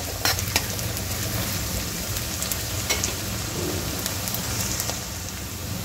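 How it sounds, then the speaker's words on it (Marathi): Ginger garlic paste fries in a pan with a steady, dense sizzle and crackle, close and continuous, with occasional light scrapes and clicks from stirring. "आता याच्यामध्ये आपण अद्रक लसूणची पेस्ट टाकून द्यायची आहे। यालाही 2-3 मिनिटं होऊ द्यायचं आहे"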